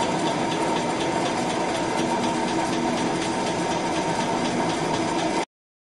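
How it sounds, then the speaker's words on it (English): A freight train rumbles past in a steady, continuous roar of heavy engine drone and rolling wheels, loud and unbroken for several seconds before cutting off abruptly, with no voices. "Freight train."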